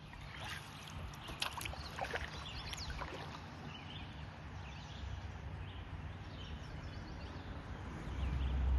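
Kayak paddle strokes dip and splash in calm water, quiet and close, with soft dripping and a faint outdoor ambience and no voices.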